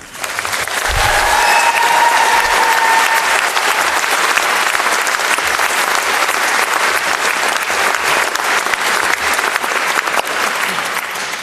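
Sustained applause from a graduation ceremony audience fills the hall, loud and dense throughout, with a brief low thump near the start and no speech.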